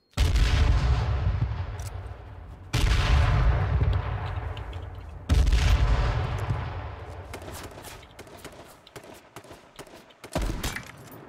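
A grenade goes off in the game H1Z1 with a heavy booming blast, and two more loud bursts follow at intervals. Each fades slowly, and a scatter of sharp cracks and a final thud come at the end.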